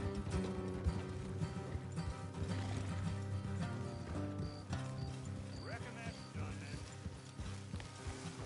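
Horses clip-clop along at a trot in Red Dead Redemption 2, hoofbeats steady under a continuous bed of game music and ambience, with faint mechanical clicks and a brief whinny.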